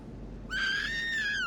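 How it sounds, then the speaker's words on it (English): A high, sustained scream-like cry from a character in Star Wars: The Old Republic, starting abruptly after a brief lull and holding steady at close range over low game ambience, with no talking. "Oh, that was a scream."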